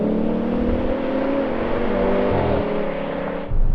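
A BMW M5 V10, an AMG E55 and an Audi RS6 accelerating hard side by side in a drag race, a loud sustained engine roar with rising revs and a brief gear-change dip near the end.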